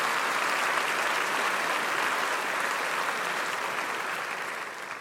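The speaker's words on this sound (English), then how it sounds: "I think that deserves a round of applause." An audience at a lecture gives a round of applause, a dense, even wash of clapping held steady for several seconds before it starts to taper off.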